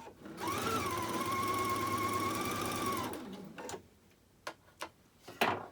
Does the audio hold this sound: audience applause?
no